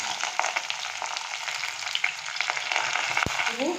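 Chopped onion with five-spice seeds fries in leftover fish-frying oil, a dense continuous sizzle with crackling pops and a sharp knock of a utensil near the end, close and alone without talk.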